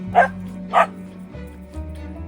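Two short, bright puppy barks close by, followed by quieter whimpering sounds.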